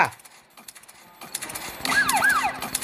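A wailing siren sweeps up and down inside a horror video game, rising out of scattered clattering and knocking noises and sounding loud and close over the final second or so.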